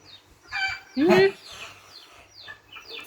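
Chicken clucks played from a phone speaker, a few short squawky calls close by, with children and adults talking softly around them.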